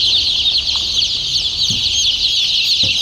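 Many Rhode Island Red layer chicks peep in a dense, continuous, high-pitched chorus, loud and close, with a few soft thumps and no talking.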